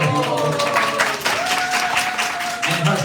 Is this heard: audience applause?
yes